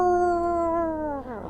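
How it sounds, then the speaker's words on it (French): A single drawn-out howl, close and loud, holds a steady pitch before sliding downward and breaking off into a rough trailing growl near the end, set as a sound effect in a tabletop role-playing game. "tu entends un grognement qui suit et qui semble très très proche de toi"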